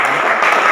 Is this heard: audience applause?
yes